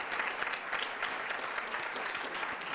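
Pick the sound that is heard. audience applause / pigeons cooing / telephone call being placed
audience applause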